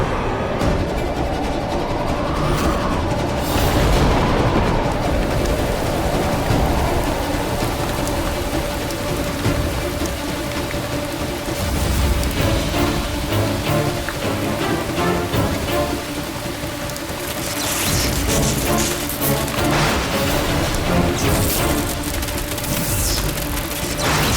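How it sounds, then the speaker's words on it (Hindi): Rain falls steadily outdoors, a continuous broad hiss of drops hitting surfaces that lasts throughout without speech. "अरे लगता है बारिश होने वाली है।"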